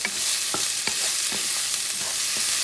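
Shrimp frying in a pan for pancit bihon, a bright continuous sizzle with a handful of soft stirring scrapes spaced through it, close and steady without speech.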